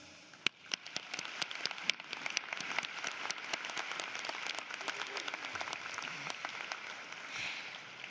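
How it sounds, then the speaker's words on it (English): An audience at a high school graduation applauds loved ones, a faint, distant wash of many hands clapping at a steady rate with a few sharper claps standing out. "Let's give a huge round of applause for our loved ones."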